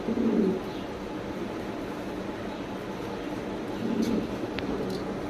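Spanish pouter pigeons coo in two soft, low bursts, one at the start and one later, over a steady background hiss with no talk.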